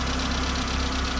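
Engine filled with mayonnaise running at a steady idle after a circuit flush, a continuous close, loud mechanical drone with a faint knocking rhythm and no talk.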